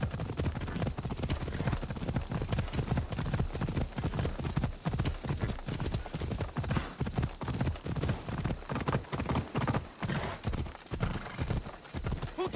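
A horse gallops in Assassin's Creed Odyssey with rapid, regular hoofbeats that run close and prominent throughout, with a brief whinny and game voices talking over the rhythm.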